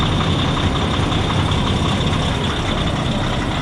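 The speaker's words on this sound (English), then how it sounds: "we just fired it up here. Let you have a listen to the engine" A used 2012 Kenworth T660 truck engine idles loud and close, a steady dense diesel rumble with faint knocking texture and no pauses.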